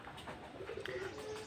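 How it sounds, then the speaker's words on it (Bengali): A teddy pigeon gives a soft, low cooing call, close by and steady over a faint background hum, with a brief higher note partway through. "এই যে দেখেন কবুতরটা"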